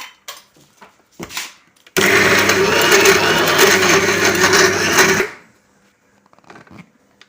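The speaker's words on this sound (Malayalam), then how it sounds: "മിക്സിയിൽ വെച്ച് അടപ്പടച്ച് സ്വിച്ചിട്ടു" An electric mixer grinder switched on with a drink mix inside, roaring loudly for about three seconds before cutting off, with quieter handling knocks before and after.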